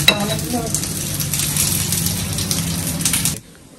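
Dried fish (shutki) fritters frying in hot oil, a steady close sizzle and bubbling with faint utensil clinks, continuous for a few seconds before cutting off abruptly.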